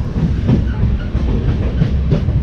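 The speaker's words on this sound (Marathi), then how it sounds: "सिंधुदुर्ग रेल्वे स्टेशन आणि आपली गाडी आता निघालेली आहे" The Konkan Railway Mandovi Express leaves Sindhudurg station, heard from on board as a steady loud rumble with rhythmic clickety-clack of wheels over rail joints, no voices present.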